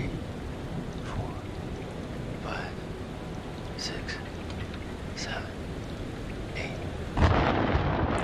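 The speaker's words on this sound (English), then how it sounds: "Storm's 8 miles away." Rain patters steadily during a thunderstorm in the horror game Man of Medan, with hushed voices speaking over it before a sudden louder crack of thunder near the end.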